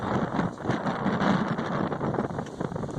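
Outdoor wind buffeting a microphone beside a Pontiac Grand Prix GXP under repair, a steady rumbling roar with gusty fluttering throughout.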